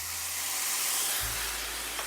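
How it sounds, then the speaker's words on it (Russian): Chicken frying in a pan: continuous close hiss and sizzle, with a low hum that shifts partway through. "Курицу я обжариваю буквально в течение 5 минут"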